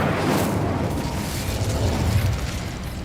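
Incendio fire spell in Hogwarts Legacy, a loud, sustained burst of roaring, crackling fire that fills the whole stretch with a rumbling, explosive rush and almost no talk.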